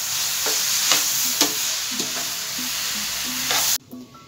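Grated carrots with sugar cook in a pan for carrot halwa, a steady hiss of sizzling under a regular rhythm of stirring scrapes and taps that cuts off abruptly near the end.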